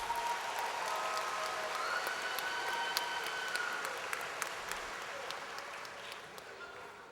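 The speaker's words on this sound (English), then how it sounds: "Let's give him another round of applause." Sustained audience applause fills a university commencement hall, steady and dense for the whole stretch with scattered sharper claps on top, tapering off slightly toward the end.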